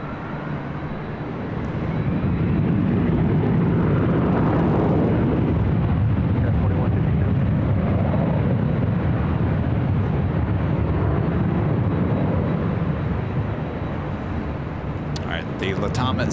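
Airliner rolling for takeoff on runway 24 left at LAX, a steady broad jet roar that builds within two seconds and holds loud and continuous throughout, with faint radio chatter at the very end.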